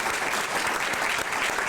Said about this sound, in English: we really need a round of applause for these people